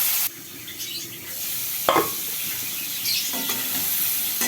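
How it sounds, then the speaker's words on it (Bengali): Brinjal with neem leaves, salt and turmeric fries in a pan, giving a steady close sizzle with a few stirring clatters and a sharp knock near the middle; no voices are heard. "নুন হলুদটা দিয়ে দিতে ভালো করে ভেজে নেবো"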